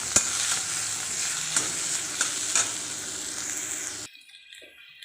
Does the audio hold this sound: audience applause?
no